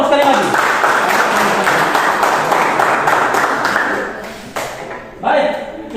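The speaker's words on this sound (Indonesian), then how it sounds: "Kita berikan aplaus sekali lagi." Applause from a classroom audience, a dense burst of clapping lasting several seconds, fading out and then picking up again briefly, with voices mixed in.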